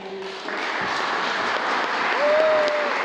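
Applause from spectators at a university volleyball match between Vinnychchyna and Ternopil, a moderate wash of clapping that swells slightly, with a voice briefly audible under it and a whistle-like tone near the end.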